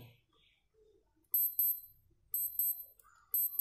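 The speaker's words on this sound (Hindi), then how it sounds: "मैं आपको अलार्म का साउंड सुनाकर दिखाता हूँ" A Sonata wristwatch alarm beeping in three short bursts of rapid high-pitched electronic chirps, separated by near silence, with faint handling noise between them.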